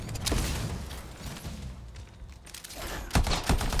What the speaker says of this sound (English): Oh, that's how you throw a grenade.